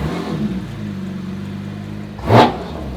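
A straight-piped Porsche GT4 RS sits idling with a steady low engine drone, then gives one sharp, loud rev blast near the end before settling back, with no talking.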